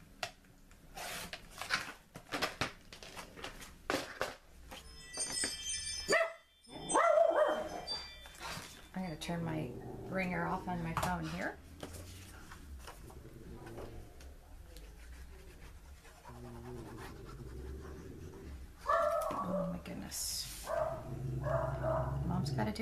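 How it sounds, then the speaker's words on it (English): Dogs barking repeatedly with yips and whimpers at close range, in bursts under a person talking nearby, with some handling rustles. "the dogs have to bark"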